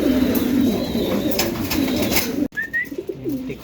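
Pigeons coo in a loft, a run of close, low throaty calls with a brief break and a few softer coos and a thin higher call near the end.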